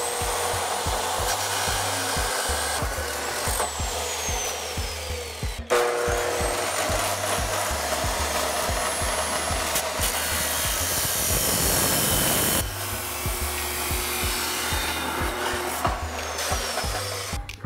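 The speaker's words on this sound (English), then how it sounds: "let's get the old chop box fired up." A chop box saw cuts metal pieces for turbo manifolds on a 1997-2002 Camaro/Firebird 3800 Series 2, a loud, steady abrasive whine with gritty grinding, dipping briefly around the middle before the cutting resumes.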